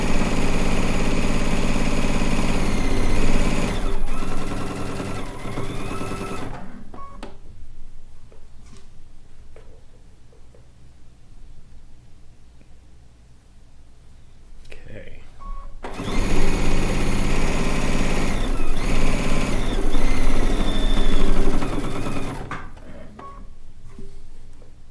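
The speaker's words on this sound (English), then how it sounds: "We're just going to sew down that entire seam." A sewing machine stitching down a rag quilt seam, its motor whirring steadily and close in two long runs with a quieter pause between, where faint handling sounds and light talk come through.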